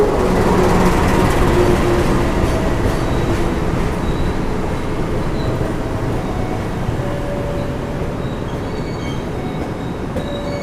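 A passenger train runs loudly through Bangil station in East Java, a dense rumble of wheels and carriages with faint squealing, steady for about ten seconds and slowly easing off.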